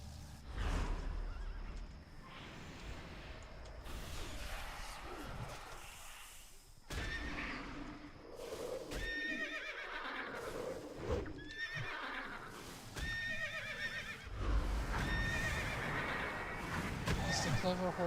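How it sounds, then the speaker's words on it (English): Repeated horse whinnies and neighs with clip-clop hooves in the game COA, layered over game-like background sounds, fairly close and continuous throughout. "It's the clover horse named Clover."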